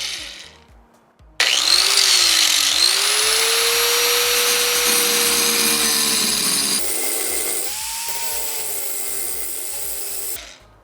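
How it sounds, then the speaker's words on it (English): An angle grinder runs a quick test cut, likely on concrete for a DIY side table, starting abruptly with a loud, steady high-pitched whine and harsh grinding hiss that holds for about nine seconds, its pitch shifting slightly before it cuts off. "I'm gonna just make sure this grinder works."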